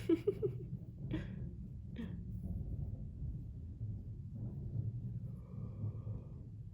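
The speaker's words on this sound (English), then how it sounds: "That's not thunder, that's my neighbor bringing in their garbage cans." A neighbor rolls garbage cans in, and the cans give a faint, distant, thunder-like low rumble that carries on for several seconds. A few soft breathy sounds come near the start.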